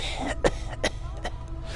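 Character in the Planescape: Torment video game breaking into a bout of coughing, four or five sharp close coughs in quick succession over a low background hum.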